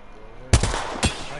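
A scout sniper rifle fires in a video game: a sharp, loud shot lands abruptly, then a second, softer crack follows about half a second later over a low background hum.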